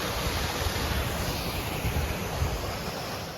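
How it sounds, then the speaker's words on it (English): A waterfall pours with a continuous, even rushing roar along a boulder-field hiking trail in Pennsylvania, a dense steady wash of water noise with some wind against the microphone and no voices. "A decent waterfall."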